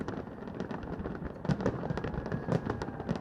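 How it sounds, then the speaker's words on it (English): Fireworks bursting over a crowded Windsor celebration, a dense continuous crackle of overlapping pops with several heavier booms standing out, loud and steady throughout with no voices. "It's the most spectacular fireworks I've ever seen."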